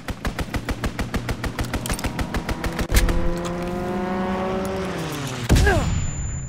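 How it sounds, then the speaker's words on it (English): Video game strafing run: a steady, evenly spaced stream of heavy gunfire rattles for about three seconds, then gives way to a droning aircraft engine sweeping past with a falling pitch, and a whoosh near the end. "Strafing run inbound."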